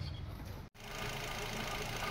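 A Nissan Almera engine runs steadily without misfiring after an ECU no-spark repair, giving a continuous close-up mechanical hum with one brief dropout near the start.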